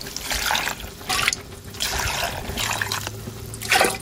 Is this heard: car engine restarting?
no